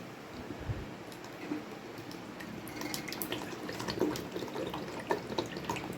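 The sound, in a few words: oil poured into a boiling herbal hair oil mixture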